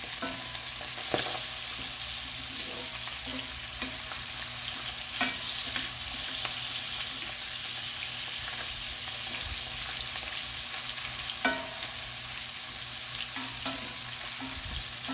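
Hamburger steak and onions frying in a pan, a steady close sizzle with occasional utensil scrapes and flips, continuous and unaccompanied by speech.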